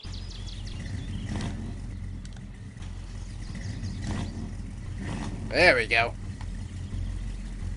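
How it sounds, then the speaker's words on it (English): An old Ford work truck in Farming Simulator 22 cranks and catches with a short, louder burst near the end, over a steady low engine drone, while someone talks. "Let's see if Grandpa's old work truck will start up here."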